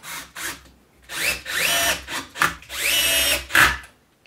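A power drill whirs in repeated short bursts while driving screws into a walnut bowl blank on a lathe setup, each run rising in pitch, loud and close with brief pauses between.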